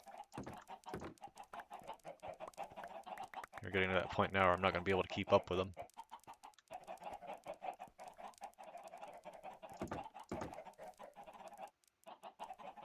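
Many chickens cluck in Minecraft: a dense flock clucking on and off throughout, with one loud burst of squawking in the middle, while someone talks over them.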